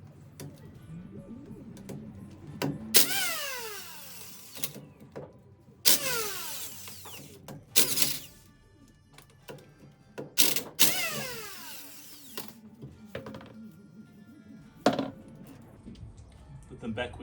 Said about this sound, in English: The big Ugga gun, rattle gun, impact driver. Take the wheels off